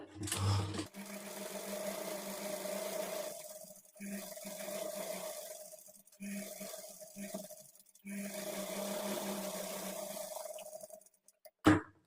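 A sewing machine stitches a blouse waistband strip in several sustained humming runs separated by short pauses, fairly quiet and close, with a faint clunk at the end.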